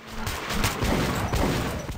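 Bursts of gunfire in Metro 2033 Redux rattle close and loud, a rapid run of shots over about two seconds with no speech.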